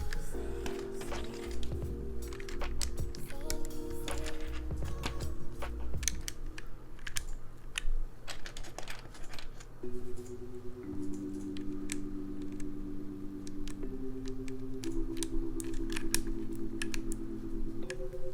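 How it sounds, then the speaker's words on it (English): Keycaps being pressed onto a Vertex Angle mechanical keyboard with muted switches: a steady stream of close, sharp plastic clicks and taps over a continuous low tonal background. "let's do all the keycaps"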